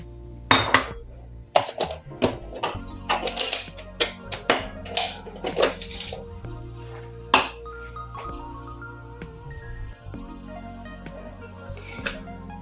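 Harcha dough of semolina being mixed in a bowl, with repeated clinks and taps of utensil against dish in irregular bursts, loud at first and then settling into quieter scraping.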